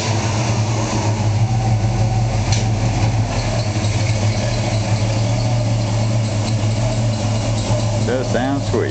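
Idling engine of a 1965 Chevrolet truck with slightly advanced timing, a steady low rumble heard close and continuous, with people talking over it.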